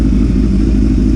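A Yamaha YZF600R Thundercat motorcycle being rebuilt after a crash idles steadily close by, a loud, even engine rumble with a faint clatter and no talking.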